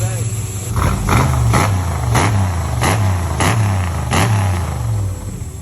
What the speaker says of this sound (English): You see how this thing's idling, bro?